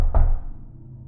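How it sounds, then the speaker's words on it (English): One loud, sharp knock on a door lands close by, then quickly decays into a brief echo, with nothing else heard. "there was a knock at the door."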